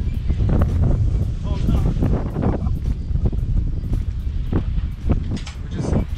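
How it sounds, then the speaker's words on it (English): Strong wind gusts buffet an outdoor garage sale in Western Australia, producing heavy, uneven rumbling bursts close to the microphone that rise and fall throughout. "It's getting really windy."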